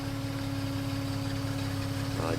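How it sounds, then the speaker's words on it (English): A 1989 Jeep XJ Cherokee idles with a noisy fuel pump, a faint steady engine hum with constant tonal whine throughout. "A little bit of a noisy fuel pump."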